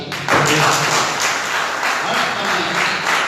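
A church congregation claps together during a Sunday sermon, a dense, steady wash of many hands that swells in at the start and holds loud throughout, with a voice faintly underneath.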